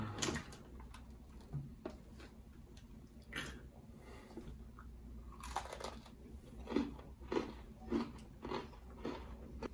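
A pink Oreo cookie with cream filling is bitten and chewed close to the mic, with a crisp crunch followed by repeated soft wet chewing and crunching, quiet and steady without talk.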